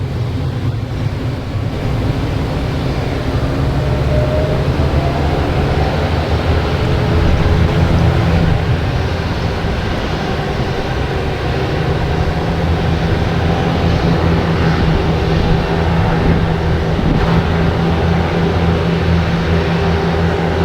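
A steady, loud roar of airplanes at Boston Logan Airport, a continuous broad engine rumble with no breaks, heard from outdoors.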